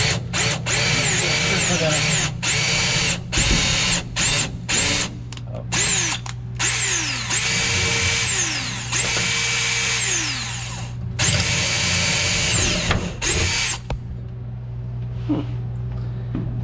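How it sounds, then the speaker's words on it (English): A power drill whirs in repeated bursts, spinning up and winding down as it bores holes on a 1941 Chevy, close by and loud, with short pauses between runs. "I got all these holes drilled where I can"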